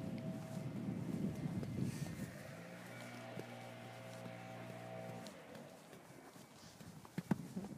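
An anxious mare's hooves clop and thud on the ground as she jumps an obstacle during schooling, a soft run of hoofbeats before a steady hum and a couple of sharp knocks near the end.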